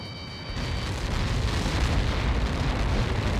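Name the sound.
explosion in Ace Combat 7 video game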